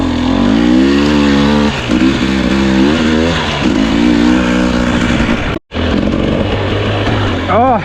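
A Husqvarna 250 dirt bike engine revs and bogs continuously while riding off-road, its pitch rising and falling with throttle and gear changes, loud and close, with a brief cut in sound near the end.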